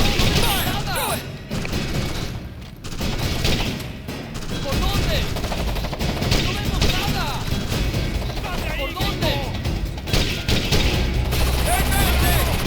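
Dense bursts of automatic gunfire and thumping explosions in the tactical shooter Ghost Recon Advanced Warfighter 2, loud and continuous throughout, with squad voices calling out over the firefight.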